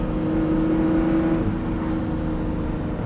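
A straight-piped Lamborghini Murcielago engine roars loudly and continuously up close, its raw droning tone dipping partway through as it downshifts.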